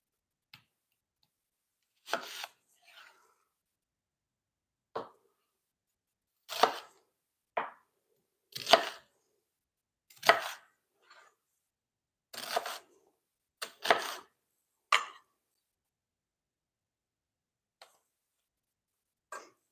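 Onion chopped on a cutting board for homemade Thanksgiving soup: about a dozen sharp, separate knife strikes, irregularly spaced with pauses between them, close and clear with no talking.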